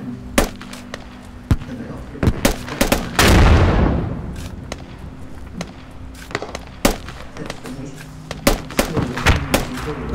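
Gunfire in the military shooter Squad: scattered sharp shots near and far crack irregularly, with one heavy burst of rapid fire and a rumbling blast, while a voice speaks faintly beneath.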